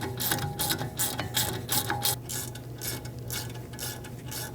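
A torque wrench ratchets on the rear brake caliper bolts of a 2016-2022 Mercedes-Benz GLC300, quick bursts of close metallic clicks in uneven runs, alone without talk.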